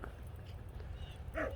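At a small-dog section of a local dog park, a dog gives a short yip or bark near the end, faint against quiet ambient noise.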